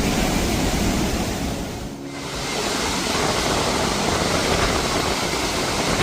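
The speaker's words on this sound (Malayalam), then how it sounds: "അത്രയും ശക്തിയായിട്ടാണ് വെള്ളം വന്നുകൊണ്ടിരിക്കുന്നത്." Rhine Falls in Switzerland thunders with powerful roaring water, a dense, loud, continuous broadband rush that dips briefly before surging back, heard close with no talk.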